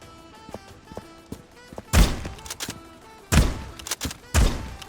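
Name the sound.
pump shotgun firing in a multiplayer FPS video game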